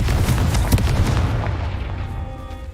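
A Confringo explosion spell in a Harry Potter video game sets off a deep, booming blast with a rumbling tail that fades into a softer, ringing decay, heard alone.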